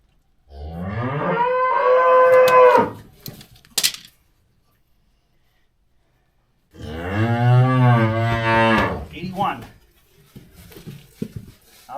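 A bull calf moos twice up close, loud and drawn out: a long call, a short break of silence, then a second, deeper bellow trailing into faint rustling.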